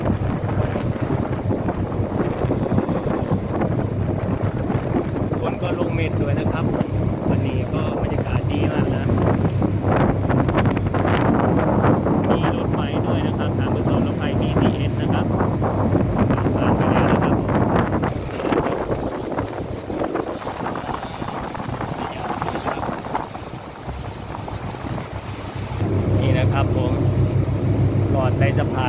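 Riding in a Thai boat past colorful lights, with a steady roar of wind buffeting the microphone and a low engine rumble throughout, while someone talks over the noise.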